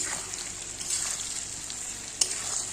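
Chopped tomatoes hit a hot pan and fry with a steady crackling sizzle, close and fairly quiet, with a single sharp clink partway through and no talking.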